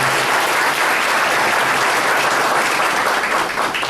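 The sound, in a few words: audience applause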